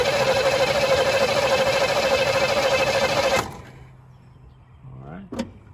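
The starter on a '77 Chevy Nova cranks steadily and loudly for about three seconds, then cuts off. A quieter mechanical whir and a short sharp noise follow.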